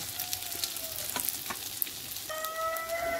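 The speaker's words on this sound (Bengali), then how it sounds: "আমি হালকা হাতে আবার এগুলোকে উল্টে পাল্টে ভালো করে নেড়ে দেবো।" Steady sizzle of fish frying in oil, with soft scraping and clinks as pieces are turned in the pan; a faint high whine joins near the end.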